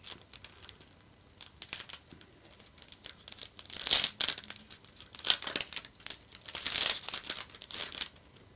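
A Yu-Gi-Oh booster pack's foil wrapper is torn open up close, with crisp crinkling and tearing in uneven bursts that grow louder and busier toward the end.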